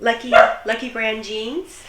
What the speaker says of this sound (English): He just let out a little bark.